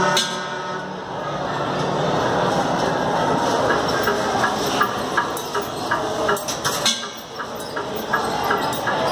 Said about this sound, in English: Now that's an electric train.